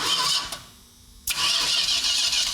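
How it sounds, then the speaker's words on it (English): A Dodge Super Bee, found totaled in a barn, has its engine cranked over. A loud steady mechanical churn cuts out abruptly, then resumes after a short pause, close by with no talking. "let's just see if it cranks over like it's supposed to."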